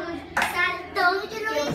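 Hands clap a few times in a children's music-listening activity, sharp bursts sounding close with voices or tones mixed in around them.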